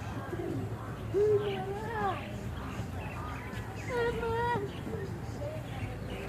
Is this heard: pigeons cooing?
yes